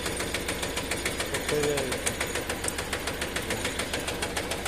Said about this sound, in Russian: Трактор в рабочем состоянии.